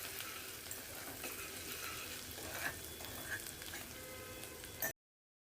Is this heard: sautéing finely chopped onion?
yes